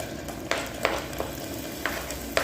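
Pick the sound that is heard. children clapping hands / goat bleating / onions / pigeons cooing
onions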